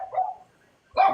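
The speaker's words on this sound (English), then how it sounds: "my dog's gonna have a lot to say" A pet dog indoors lets out two short barks or yips, close and fairly loud, separated by a brief pause.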